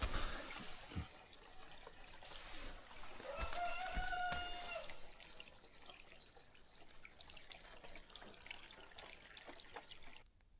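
Water drains and trickles beneath an off-grid cabin in snowy weather, a faint, steady run of dripping and flowing that continues for about ten seconds.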